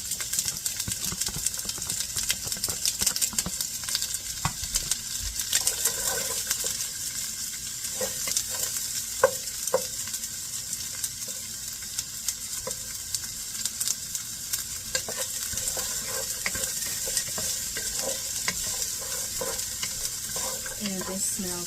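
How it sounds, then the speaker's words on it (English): Onions and garlic sautéing in a pan, a steady, dense sizzle heard up close for the whole stretch, with faint scrapes and clinks of stirring scattered through and no one speaking. "we're going to saute the onions and garlic"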